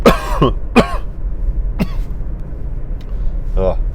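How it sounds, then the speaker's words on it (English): A person with a cold coughs several times in quick bursts, harsh and close, with a throat-clearing rasp and a warming-up car's low hum underneath. "Stupid cough."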